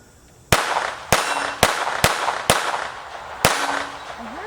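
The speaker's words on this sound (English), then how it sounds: "And then just pull the trigger." Six gunshots from a Taurus TX22 .22 pistol at a shooting range, sharp loud cracks fired at an uneven pace over about three seconds, each followed by a brief echoing tail, with no talking between shots.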